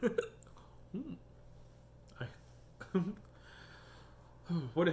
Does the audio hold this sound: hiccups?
yes